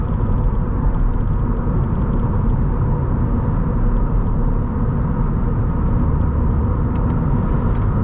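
A 2013 Subaru BRZ with its 2-liter flat-four engine drives with traction control off, giving a steady, dense cabin rumble and road roar with no clear revving changes.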